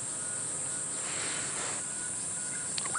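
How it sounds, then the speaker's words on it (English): A grasshopper stridulates with its back legs as it flies past on a safari drive at sunrise, a faint, dry, buzzing rasp rising and fading over a steady insect chorus. "grasshopper coming past us, the stridulating"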